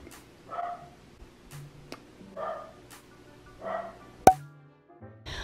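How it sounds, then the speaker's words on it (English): Several faint, short barks from a dog in a home come at irregular intervals, with a sharp click partway through. "My dog is barking."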